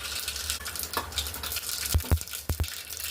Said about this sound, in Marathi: मोहरी तडतडली.